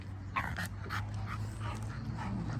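Several dogs whimper and yip softly outdoors in the morning, with short high whines repeating over a low background rumble, fairly quiet and without talk.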